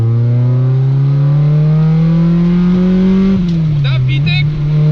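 Honda car engine revving hard, its tone climbing steadily, then jumping sharply as VTEC engages, followed by a brief dip and a tire-like chirp; loud and close, with no talk over it.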